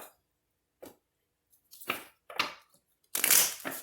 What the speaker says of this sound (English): as I shuffle these, what I'm going to do, I have them upside down